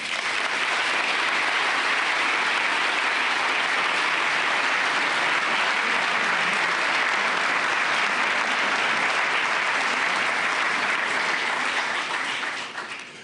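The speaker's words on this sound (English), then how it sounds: "give President Macron a warm applause of welcome" Sustained, dense applause from a large summit audience welcoming President Macron, loud and even throughout, tapering slightly at the very end.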